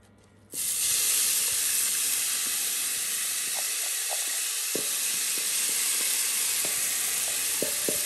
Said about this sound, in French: on va faire revenir notre oignon avec nos poivrons